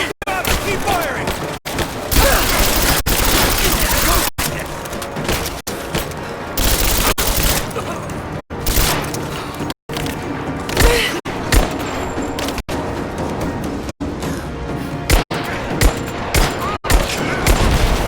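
Repeated bursts of gunfire in a Rise of the Tomb Raider firefight, loud and dense with brief gaps between volleys, sustained automatic fire and booming impacts throughout.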